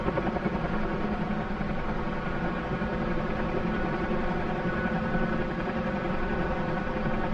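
Huey helicopter in a flight simulator game, in forward flight at about 50 knots, a loud, steady, dense rotor and engine roar with an even fast beat, constant for several seconds with no talk.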